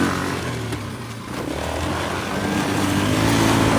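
Yamaha Blaster quad engine revs loud and close, rising and falling as the throttle works, with steady mechanical roar and no talk.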